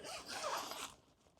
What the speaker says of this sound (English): you can just unzip here